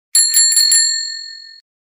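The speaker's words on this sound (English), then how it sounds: "bicycle," A bicycle bell rings with four quick dings, then the bright metallic tone rings on and fades away, loud and close.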